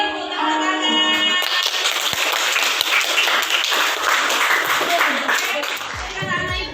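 Children in an Indonesian classroom clap their hands together in a dense, sustained burst lasting several seconds, loud and close, with young voices mixed in.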